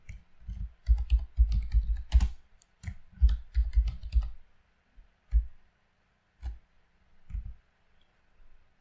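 Keys typed on a computer keyboard in bursts of quick, close clicks with short pauses between runs, clear and alone.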